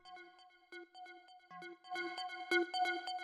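A clean synth pluck with no saturation or distortion, in a dark industrial techno context, plays short tonal notes in a steady rhythm with stacked clear harmonics. The pattern grows denser and louder in its second half.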